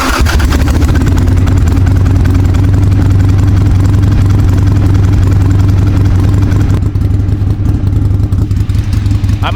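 Harley-Davidson Ironhead motorcycle engine at high idle while warming up, with its carburetor having coughing and sputtering trouble. The engine runs loud and close in a steady, throbbing drone that holds throughout and eases slightly toward the end.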